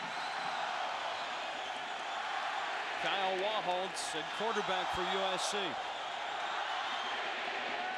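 A 1995 college football stadium crowd at a Washington Huskies home game against USC makes a steady distant roar, with a play-by-play announcer talking over it.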